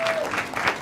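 Brief burst of audience applause for a singer on a comedy talent show, a dense wash of clapping mixed with crowd noise and voices.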